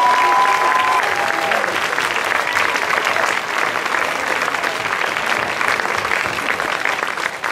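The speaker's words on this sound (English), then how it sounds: "big round of applause" A live audience gives a big round of applause at a Tesco Strictly-style dance event, dense steady clapping carrying on loud and unbroken from start to finish with no speech over it.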